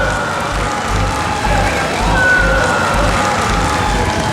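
A large crowd cheers and roars continuously as the Naro space rocket launches in 2013, a broad, dense wash of voices that swells slightly midway.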